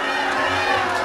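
Wedding guests cheer for the newlyweds in a dense, loud burst of crowd shouting and chanting, close and sustained.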